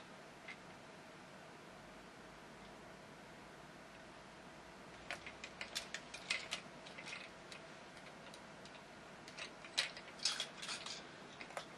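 Toy swords are pushed into a plastic Power Rangers Super Megaforce Legendary Megazord figure, giving sparse, faint clicks and ratcheting snaps that gather in short bursts after a quiet start.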